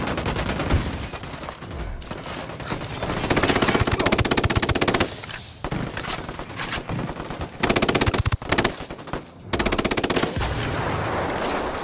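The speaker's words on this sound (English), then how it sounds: "I'm opening fire on these shitheads" Loud automatic machine-gun fire rattles in Ghost Recon Wildlands, coming in several long sustained bursts broken by short gaps, with no speech over it.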